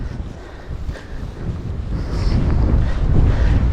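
Strong wind buffets the microphone on the summit of Mt Timbac, a mountain, with a roaring low rumble that builds louder toward the end and faint whistling above it.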